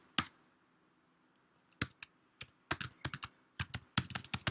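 A single sharp keystroke, a pause, then bursts of rapid computer-keyboard typing, with crisp close clicks arriving in uneven clusters.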